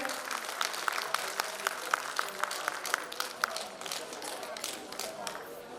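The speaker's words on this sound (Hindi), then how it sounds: "जोरदार ताली" Applause at a Bihari Sahu Samaj annual general meeting welcoming guests, light scattered claps mixed with crowd chatter and voices, moderately faint and uneven rather than a thunderous ovation.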